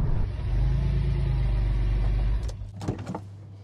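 A first-generation Porsche 996 Carrera drives past with a steady low engine drone that cuts off abruptly, followed by a few brief clunks and rustles.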